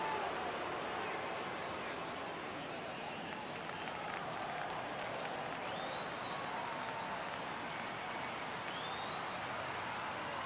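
Crowd noise from a baseball stadium in the MLB The Show 23 video game, a steady, dense roar of fans with a swell of cheering partway through.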